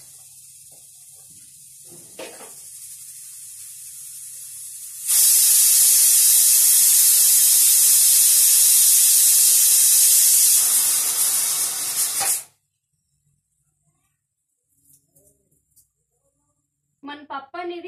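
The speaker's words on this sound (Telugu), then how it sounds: "నేను ఆల్రెడీ స్టవ్ కూడా ఆఫ్ చేసేసాను, ఆవిరి పోవడానికి పెట్టేశాను అనమాట కుక్కర్ని" Pressure cooker with cooked lentils releasing steam in one loud, steady, close hiss that lasts about seven seconds and then stops abruptly, with quieter kitchen sounds before and after.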